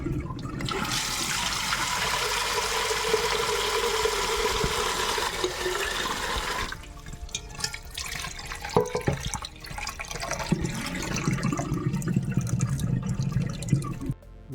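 Cold tap water runs steadily to rinse flour off chicken for homemade broth, a continuous splashing stream that stops partway, leaving quieter kitchen clatter and dripping.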